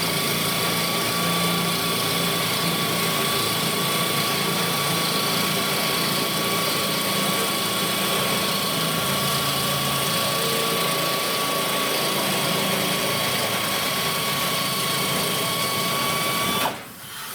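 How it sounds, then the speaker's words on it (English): A high-pitched power cutting tool whines continuously against a rusty metal rear deck panel, steady and loud, stopping abruptly at the very end. "So we're cutting this off with the cutting tool there."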